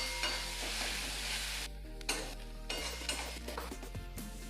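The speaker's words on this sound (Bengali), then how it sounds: "দেবো লাল লঙ্কার গুঁড়ো 1/2 চামচ। সব কিছুকে আমি একটু কষিয়ে নেব।" Tomato sautéing in a pan with turmeric and red chilli powder, a steady close sizzle and frying hiss with stirring scrapes and occasional utensil clinks against the pan, no talk.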